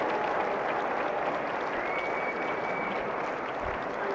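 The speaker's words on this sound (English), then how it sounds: "And the big oh from the crowd" A crowd lets out a big drawn-out "oh" reacting to a padel shot at an FIP Silver final, a steady broad roar of voices and some clapping holding loud across the whole stretch.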